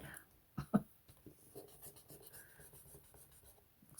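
Pencil eraser rubbed back and forth on a paper card, faint close scratchy strokes with a couple of sharper taps near the start, then softer intermittent rubbing.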